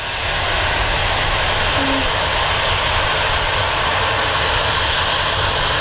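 An airliner's engines roar loud and steady at Manchester Airport, a broad continuous drone with no voices over it.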